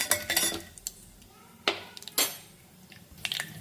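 A metal spoon stirs curry leaves in a cooking pan, giving a few sharp scraping clinks against the metal in separate bursts, close and fairly clear, with a quiet gap between strokes.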